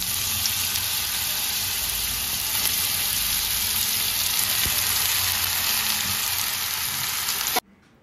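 Panch phoron spices sizzle in hot oil in a pan, giving a loud, steady, crackling hiss with scattered pops that runs for several seconds before cutting off abruptly, no talking.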